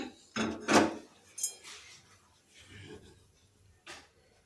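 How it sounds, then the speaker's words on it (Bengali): A metal kadai (wok) is set down on a stove burner in a home kitchen. A few short metallic clanks and knocks ring out close by, spaced apart against quiet background. "আমরা ওভেনের উপর আর একটা কড়াই বসিয়ে দিয়েছি"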